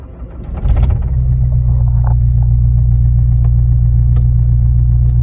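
A car with a freshly repaired gearbox and CV joint pulling away in first gear: the engine kicks in with a loud close rumble and holds a steady, heavy drone throughout, with no talking.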